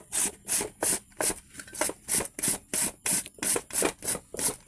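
Papaya grated by hand with a sharp grater in a backyard, about a dozen even rasping strokes in a steady rhythm, close and fairly quiet.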